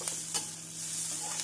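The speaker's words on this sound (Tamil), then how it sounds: "இஞ்சி சேர்த்து நன்றாக வதக்க வேண்டும்" Onion, garlic and ginger paste sauté in a pan with a steady sizzle while a spoon scrapes and stirs in a few short strokes. The frying is close and clear, with no talking.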